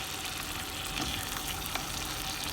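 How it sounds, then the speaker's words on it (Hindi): Chicken pieces for a white karahi crackle and fry in hot cooking oil, making a dense, steady sizzle throughout. "ये मैंने ऑयल डाल दिया। इसमें अब हम चिकन डालेंगे। चिकन एक एक बोटी उठा के डालिए, क्योंकि पहले हम इसकी भुनाई करेंगे"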